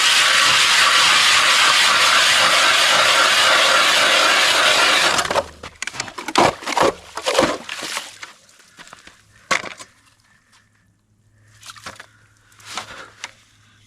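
Steady grinding of an auger boring a test hole through lake ice about 3.5 inches thick, loud and continuous for several seconds, then stopping, followed by scattered knocks and scraping.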